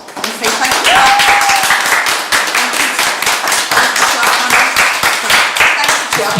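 An audience claps for a panel at the close of a public conversation event, dense and sustained applause filling the room, fairly loud and close, with a voice speaking over it.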